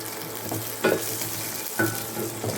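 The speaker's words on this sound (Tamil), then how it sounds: "நல்ல ஒரு வெங்காயம் நல்லா வதங்கி வந்துடுச்சு." Onions for a quick village-style Indian onion gravy sizzle and fry in a pan, with a steady crackling hiss and a few scraping stirs of the spoon, close and fairly loud, with no talking.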